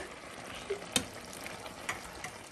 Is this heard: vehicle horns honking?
no